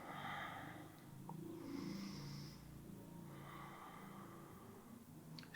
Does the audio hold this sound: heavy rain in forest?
no